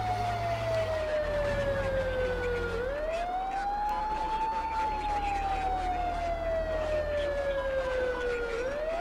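A low-pitched electronic Met Police siren in a video game wails continuously, sliding slowly up and down in long sweeps, loud and steady with engine noise underneath.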